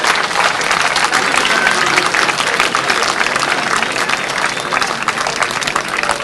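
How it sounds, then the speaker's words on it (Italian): A large audience at an Italian evening show in San Vendemiano applauds loudly and continuously, dense clapping holding steady throughout. "io chiederei anche un applauso per voi"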